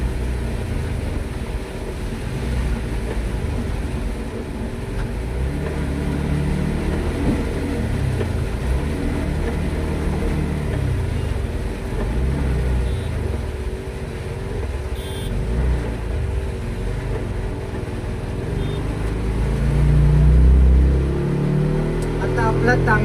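A car climbs the Tamhini ghat road in first and second gear during heavy rain, its engine a steady low drone that swells louder near the end.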